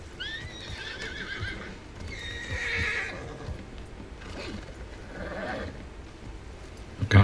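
A horse in Red Dead Redemption 2 whinnies loudly a couple of times between muffled hoof clops, with a sharp thud at the very end.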